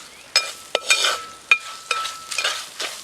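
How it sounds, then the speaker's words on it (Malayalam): Chopped lemon is dropped into a pan of frying spices for a dry fruit pickle, sharp stirring scrapes and clinks punctuating a soft sizzle, close and loud. "അരിഞ്ഞു വെച്ച നാരങ്ങ ഇട്ട് കൊടുക്കുവാണ്."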